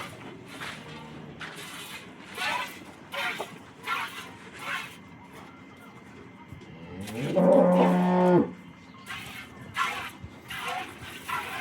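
A cow gives one loud, low moo near the middle while cows are being milked by hand, with soft rhythmic splashing and milking sounds around it and quiet background voices.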